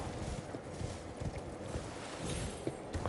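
Horse hooves clopping in the Elden Ring video game as a rider gallops along, a steady rhythmic patter of thuds mixed with game wind noise, fairly soft and continuous throughout.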